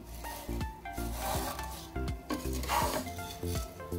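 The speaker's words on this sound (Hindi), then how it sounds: "तो इसको लो फ्लेम पर धीमी आंच में थोड़ा सा फ्राई कर लेना है, अच्छे से मिक्स कर लेना।" Vermicelli is stirred and fried over a low flame in a pan, with repeated scraping strokes of a spoon against the metal at a brisk, uneven rhythm. Soft frying crackle sits beneath, and faint music plays in the background.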